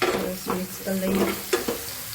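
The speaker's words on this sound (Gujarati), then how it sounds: "મિક્સ કરી લઈએ." Handvo batter with sugar and lemon is stirred in a bowl, making repeated wet, sloshing strokes in an even rhythm, close and clear, with no talking.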